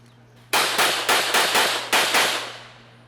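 Pistol fire at a USPSA shooting match: a fast string of about eight sharp, loud shots in quick rhythm, each cracking out against a quiet background.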